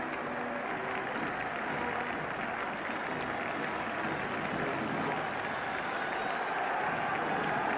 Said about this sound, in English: Tremendous cheering for Aston Villa.